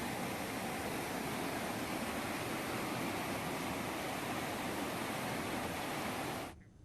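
Swollen flood water rushes loudly through the Bulla drain in Rishikesh, a dense, steady roar that stays constant and then cuts off abruptly near the end.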